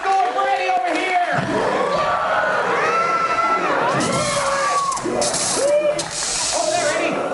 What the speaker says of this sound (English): Give a round of applause going for Eddie over here.